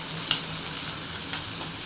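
Curry leaves are sautéed in hot oil for a prawn gravy, producing a constant close sizzle with a few brief crackles and spoon taps.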